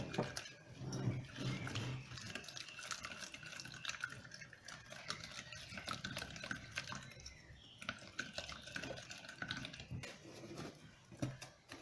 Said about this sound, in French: Et je dilue le mix dans un peu d'eau.